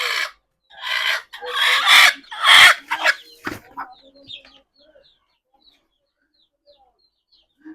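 Backyard laying hens clucking loudly in several close, uneven bursts over the first few seconds, then trailing off into sparse faint chirps and near silence.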